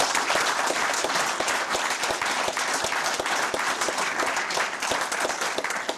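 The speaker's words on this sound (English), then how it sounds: "let's give another round of applause for our 2 Democratic lieutenant governor candidates" A forum audience in Stevens Point applauds Democratic lieutenant governor candidates, a dense, steady round of clapping from many hands that carries on without a break for several seconds.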